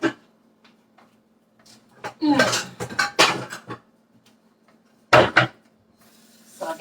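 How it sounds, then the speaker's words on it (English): A second metal skillet is fetched and handled in a home kitchen, loud clanks and scrapes of cookware in bursts with quiet gaps between, close by, with a voice talking briefly. "Let me get my other skillet too."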